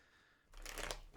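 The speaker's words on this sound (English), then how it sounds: "we need a good shuffle." A tarot card deck is shuffled by hand, one short burst of riffling cards heard up close after a moment of near quiet.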